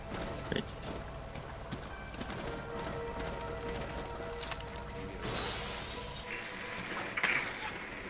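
Glass shatters in a video game shootout, a bright crash about two-thirds through amid constant low game ambience and scattered small impacts.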